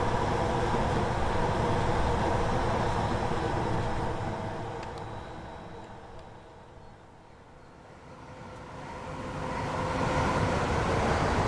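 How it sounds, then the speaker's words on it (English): A passing train in Train Sim World, a broad continuous rumble and rolling roar that swells loud, dips to a quieter stretch midway, then builds again. "Ah, train."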